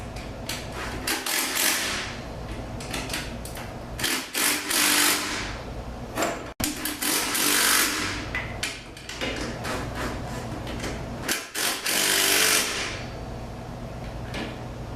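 A cordless impact wrench drives bolts with a socket while a pneumatic hose reel is mounted, giving several loud, rattling bursts of a few seconds each, separated by brief gaps.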